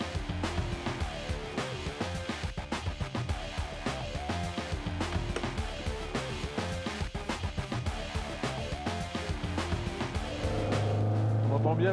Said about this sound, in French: On entend bien la mélodie du moteur.